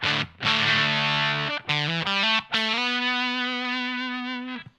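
Electric guitar through a Fromel Electronics Si Phuz silicon fuzz pedal plays a few sustained notes, buzzy and square-edged, ending on a long held note that slowly fades.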